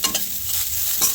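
Masala with coriander and mint fries on a low flame, making a soft, close sizzle broken by a few quick scraping stirs in a brief burst.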